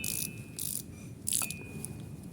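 Torque wrench ratcheting while tightening bolts on a Jeep Grand Cherokee during a CV joint replacement, with a few quick clicking bursts close up over a faint background hum and no talking.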